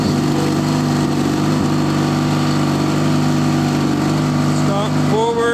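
Gilson S-Twin 18 HP lawn tractor engine running at a steady drone throughout, loud and close, with a brief rising whine near the end.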